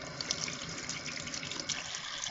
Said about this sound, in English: I'm going to run some water on this stone now